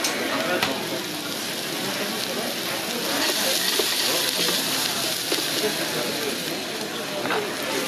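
Shallots cooking gently in a pan without browning, a continuous close sizzle and hiss with occasional stirring noises.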